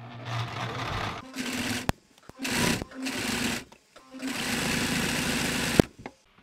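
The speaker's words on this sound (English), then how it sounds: "I'm doing this sort of like three point zigzag stitch uh, so it can still stretch. You'll see as I sew, it'll be this stitch." A sewing machine running a three-point zigzag stitch on stretchy cotton fabric, whirring in several bursts of one to two seconds separated by short pauses, close and clear.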